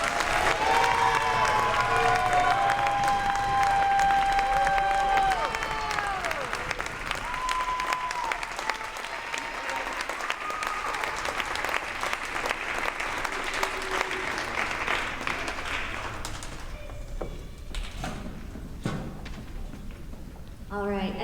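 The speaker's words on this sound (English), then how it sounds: "Please join us in a round of applause for our 5th grade students." A school audience claps steadily for a fifth grade class at a 2021 promotion ceremony, dense sustained applause lasting the whole stretch with some murmur and faint voices mixed in.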